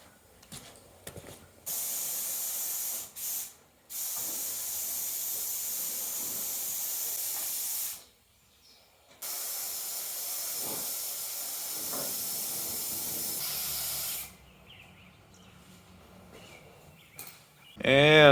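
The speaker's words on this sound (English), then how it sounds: "Okay, let's prime." Hissing bursts of spray primer on a Cushman Truckster golf cart cab, several long sprays of a few seconds each separated by brief pauses, fairly close.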